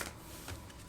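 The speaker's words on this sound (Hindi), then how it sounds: "एक और शफल कर लेते हैं।" A brief, soft papery riffle of tarot cards being shuffled by hand, a quick flutter lasting about a second at low level with no talk over it.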